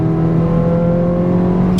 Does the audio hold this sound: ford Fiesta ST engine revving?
yes